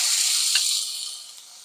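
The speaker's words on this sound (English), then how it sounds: "I'm going to add this beef down in there, and I'm going to sear it on both sides" Beef tips coated in oil, salt and pepper hit a hot pan and sear with a bright, steady hiss and sizzle, with one small pop near the start, easing slightly quieter as it continues, close up and with no talking.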